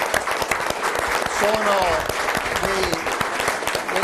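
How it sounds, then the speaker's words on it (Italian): An audience applauds athletes at a winter regional games ceremony, steady clapping throughout while someone speaks over the crowd. "Facciamo un applauso a tutti questi grandi atleti"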